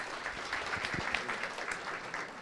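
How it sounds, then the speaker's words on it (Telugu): Audience applause for a student named Likhitha at a college event, steady scattered clapping heard from a distance at a fairly low level, with faint murmurs underneath. "లిఖితకి క్లాప్స్"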